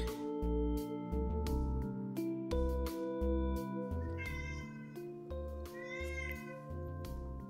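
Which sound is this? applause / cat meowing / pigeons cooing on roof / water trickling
cat meowing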